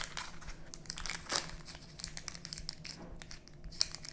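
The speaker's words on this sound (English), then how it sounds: "Then you want to take the parchment paper off." Parchment paper is peeled off a freshly baked, still-warm cake, giving close, continuous crinkling and tearing with sharper crackles throughout and no talk.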